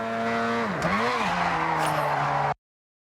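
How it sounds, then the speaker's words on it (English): A car drifting in the Forza Horizon 6 racing game, its engine holding a strong tone that dips and swoops while tires squeal through the slide, loud and close, cutting off abruptly. "You want to build up as much speed as you can and just throw it into a drift."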